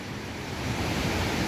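Vast rushing flow of a river in hilly country, a steady broad roar of water with no breaks, loud and close throughout.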